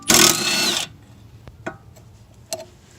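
An impact wrench rattles briefly and loudly as it removes a BMW E46 ZHP front strut nut, followed by quiet metallic clicks and taps.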